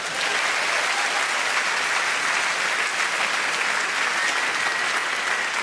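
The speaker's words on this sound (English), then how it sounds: "Ladies and gentlemen, please give them a round of applause." A full crowd applauds at a stand-up comedy show, producing a loud, dense and unbroken wash of clapping that stays even for several seconds with no voices on top.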